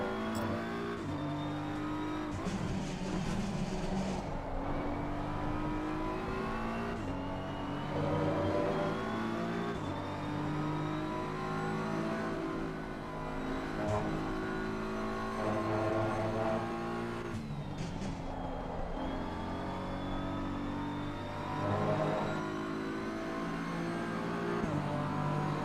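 A Porsche race car in the Rennsport racing game screams through its gears: a loud, steady engine wail that rises, drops sharply at each shift and climbs again, running continuously with no voices.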